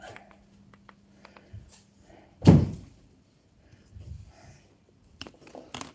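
A door pushed shut indoors, giving one loud, close thud with a brief rattle, set among quiet room noise and faint movement.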